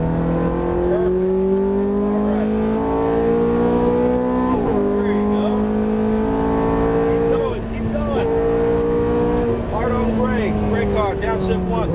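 A Ferrari F430 sports car engine revs up repeatedly through the gears on a track, rising in pitch, dropping with each shift, then climbing again, while voices talk over it.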